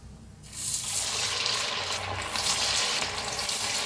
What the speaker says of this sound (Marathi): सगळं तळून घेते